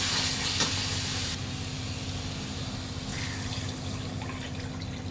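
Water poured into a pan of spice paste frying in oil, a broad steady hiss and sizzle with a brief louder burst at the start, continuing evenly with no talk.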